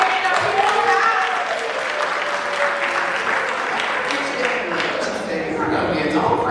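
An audience at an Africa Day celebration claps steadily and loudly, a dense wash of applause that holds for several seconds, with a voice speaking over it.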